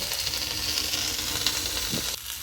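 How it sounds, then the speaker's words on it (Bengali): Eggplant slices fry in a little oil with a steady, close sizzling hiss that runs throughout, broken near the end by a brief clatter. "এই যে বেগুন ভাজাগুলো বসিয়ে দিয়েছি"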